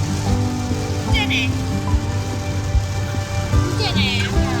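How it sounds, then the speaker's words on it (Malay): Rain falls in Penang, a steady dense patter on surfaces with a low background rumble and a couple of brief higher chirps, continuous throughout. "Hujan"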